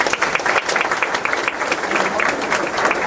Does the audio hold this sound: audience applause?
yes